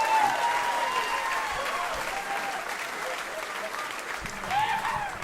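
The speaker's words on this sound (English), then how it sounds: "Round of applause for Spanky Brown." Audience applause at a live comedy club show, a steady wash of clapping that holds for about five seconds and swells again near the end, with faint talk underneath.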